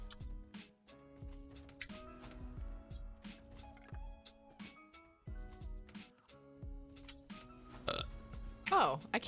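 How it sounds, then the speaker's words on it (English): A single human burp done on command, a loud rough gurgling belch near the end, following a stretch of quiet speech and faint background music. "I can burp on command still"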